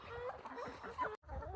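Farm chickens clucking close by in short, soft, irregular calls, quiet and brief, with no voices.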